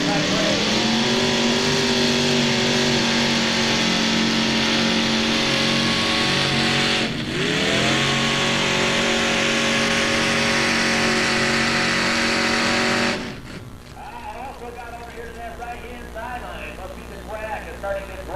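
A pulling tractor at a 1994 NTPA tractor pull in Imlay City, Michigan roars loud and sustained at high revs, briefly dipping as the throttle eases, then drops away abruptly to crowd and ambient noise; a commentator talks over it.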